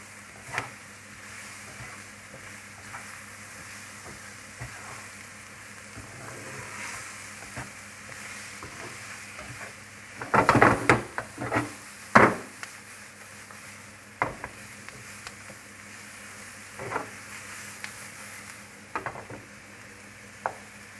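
Mushrooms and onions frying in oil and flour in a pan for a lamb stew, a steady soft sizzle with occasional scraping stirs and a few louder clanks of utensil against pan.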